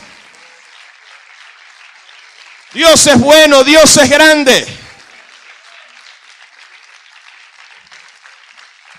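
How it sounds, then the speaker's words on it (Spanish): Congregation at a church service applauding the Lord, a faint, steady patter of clapping throughout, briefly covered by a preacher's loud shouted words in the middle. "Que se escuche tu aplauso."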